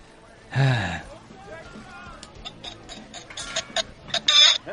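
A chicken-shaped ball toy lets out a loud, strained squawking cluck, followed by softer clicking and a second sharp squeal, with people chatting quietly around it.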